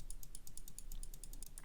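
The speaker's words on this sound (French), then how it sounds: "je clique bien fort sur ma souris Corsair" A Corsair computer mouse is clicked hard and repeatedly, producing a quick, even train of sharp, faint clicks about ten per second close to the microphone, with no voices.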